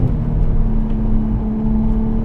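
VW Corrado VR6 cruising smoothly on the road, a steady low engine hum and drone with tyre and road rumble from inside the cabin, constant and fairly loud, with no one speaking.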